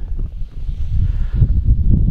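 Loud wind buffeting a microphone outdoors at a model glider competition in France's Loire Valley, a steady low rumble filling the short stretch with no talk.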